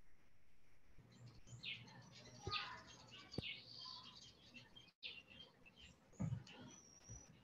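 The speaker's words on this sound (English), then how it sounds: "We also hear the birds in the background." Faint outdoor birds chirping in the background, scattered short tweets and calls over a quiet room hum with no one speaking.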